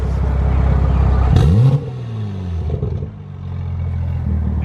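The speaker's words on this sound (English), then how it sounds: "can you give me a rev real quick, sir?" A car with only a downpipe modification and its drive mode set to comfort revs hard at the exhaust, a loud rumbling idle jumping into a sharp rising snarl, then dropping back to a burbling idle.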